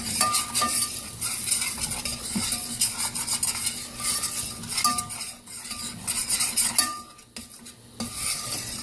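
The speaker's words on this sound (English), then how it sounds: "And I'm going to stir that around." Flour cooks in a pan as a macaroni and cheese base while a utensil stirs it, with repeated close metallic scrapes and clinks over a faint sizzle and no talking.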